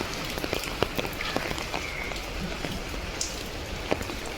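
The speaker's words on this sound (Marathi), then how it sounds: "पाऊस आहे जरा जरासा." Light rain patters steadily on surfaces nearby, with scattered louder drips and taps over a soft continuous hiss.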